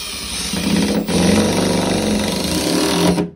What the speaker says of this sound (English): It's an impact driver.